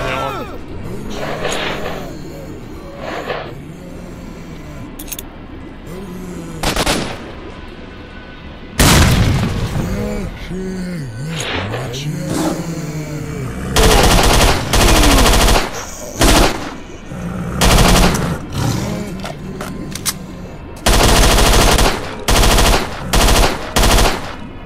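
Gunfire and blasts in S.T.A.L.K.E.R.: Shadow of Chernobyl, loud close automatic bursts and booming shots in clustered volleys, separated by quieter stretches of ambient rumble and game effects.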